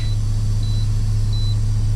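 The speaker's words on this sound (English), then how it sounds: "axle is locked, that's why we're beeping" A high electronic warning beep from a semi-truck with a locked axle repeats three times at an even pace over a loud, steady engine rumble.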